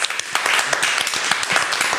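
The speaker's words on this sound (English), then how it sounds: "Round of applause." A handful of people clap in a podcast studio, producing sharp, distinct, closely spaced claps that stay fairly loud and steady for the whole stretch.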